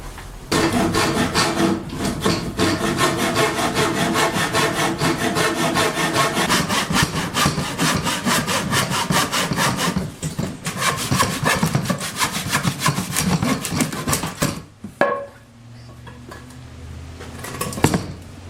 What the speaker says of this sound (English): this saw I use for like PVC and stuff. It's a fine-tooth saw. This cut is so bad.